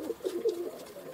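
Pigeons coo softly and repeatedly while eating bread, a series of low, rounded throaty calls close by, with no voices over them.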